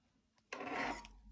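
Scissors slice through a length of ribbon in one brief, close rasping cut after a faint click, then fall quiet.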